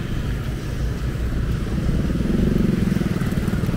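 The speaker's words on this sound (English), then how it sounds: "Oh, lots of bikes." Several motorcycles and scooters pass steadily along a main road under construction in Amed, Bali, a continuous near engine drone that swells slightly toward the end.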